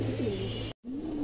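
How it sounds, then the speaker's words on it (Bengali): A female pigeon coos in soft, low, wavering phrases up close, with a short gap in the middle before the cooing picks up again. "সুন্দর একটা মাদি কবুতর আছে"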